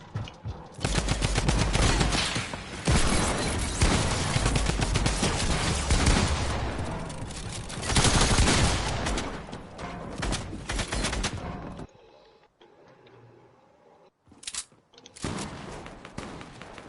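Loud bursts of rapid rifle fire in an arena shooter game, dense volleys for about twelve seconds, then a pause and a couple of short sharp bursts.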